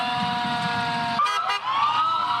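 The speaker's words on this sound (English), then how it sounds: "As the siren sounds, 10-year-old Michael is speechless." Wailing emergency vehicle sirens from police, fire and sheriff's units at a parade welcoming a 10-year-old boy home, loud and sustained with rising and falling tones and a brief blast midway.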